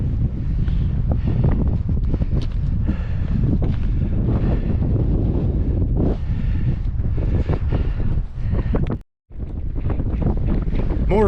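Strong gusts buffet the microphone on the summit of Sunrise Peak, a loud, roaring, continuous rumble that drops out briefly near the end and then returns.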